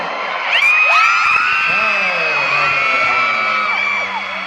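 Fans scream and cheer in a loud, sustained roar at a fan meeting in Manila, with high-pitched shrieks and whoops piling together close by and continuing for several seconds.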